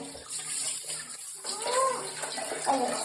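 Warm water is poured over a doll during a bath, splashing and trickling steadily for a few seconds close by. A voice and another voice can be heard over the running water.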